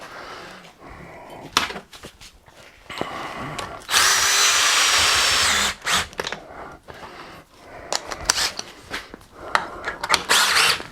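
A power drill drives lag bolts into wood to fasten down a Harrison 300 lathe tool post: loud, close whirring in several short bursts, one long sustained run, then more quick trigger pulls, with no talking.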